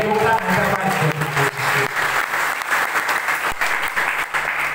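A church congregation bursts into loud, sustained applause, dense clapping from many hands filling the room for several seconds, with a voice faintly over it at the start.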